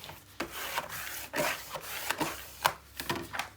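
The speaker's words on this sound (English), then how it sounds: "And then we're going to burnish." Paper is burnished by hand for a 9 x 9 mini album, producing repeated dry rubbing and scraping strokes in an uneven rhythm, close and moderately loud with no talking.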